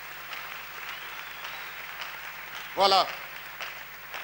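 A church congregation applauds with a steady wash of clapping, and a single voice briefly calls out over it partway through.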